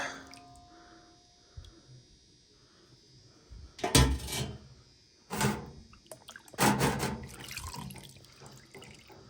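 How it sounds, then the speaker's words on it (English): Water from a sink tap splashes and runs over parts taken off a 1980 Suzuki TS185 motorcycle, in several bursts of rinsing with quiet dripping and handling noises between them, close by. "Give us a rinse in the sink, and we'll get a closer look."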